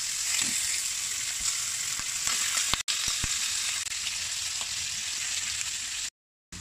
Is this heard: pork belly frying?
yes